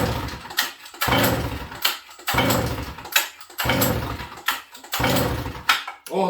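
A Sachs Dolmar 153 100cc chainsaw being pull-started: about five loud rasping bursts of the starter cord and engine cranking, roughly one second apart, close by, each stopping without the engine catching.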